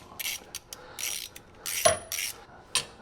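A ratchet snugs up bolts on an aluminum rear differential cover, several short bursts of quick clicking close by with small pauses between strokes.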